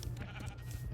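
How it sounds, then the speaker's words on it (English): A sheep bleats in Minecraft, a short wavering call heard clearly in a quiet game scene. "So I think that's a sheep."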